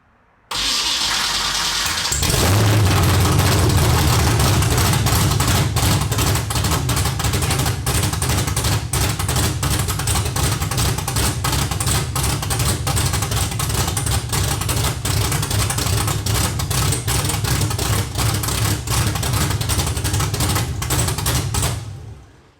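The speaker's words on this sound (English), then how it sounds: "I'm gonna go ahead and connect the battery, fire it up. It is open header, so it's gonna be crazy loud" A Nissan S13 engine running open headers cranks over and fires, then settles into a very loud, rough, throbbing idle that carries on steadily for about twenty seconds before abruptly cutting off.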